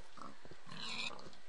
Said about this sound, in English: The amazing pig room.